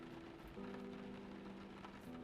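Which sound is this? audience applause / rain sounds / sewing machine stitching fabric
rain sounds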